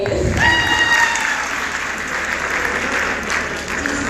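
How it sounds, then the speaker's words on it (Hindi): Audience at a GCU Lahore bait bazi poetry semi-final claps for the judges, a steady crowd applause with a voice speaking over the start. "जजेस के लिए तालियां बजाइए।"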